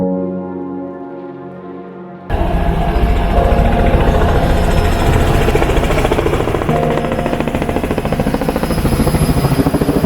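A motor boat running on a long lake at the Momo Inn resort, its engine starting abruptly after a quieter hum and then droning loud and steady with a rapid rattling pulse close by.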